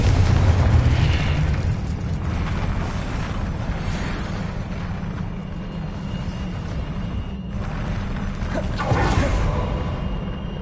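Confringo explosion spell cast in the video game Hogwarts Legacy: a loud, sustained roaring blast with a heavy low rumble, swelling again near the end, and no talking.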